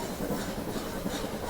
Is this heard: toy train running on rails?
yes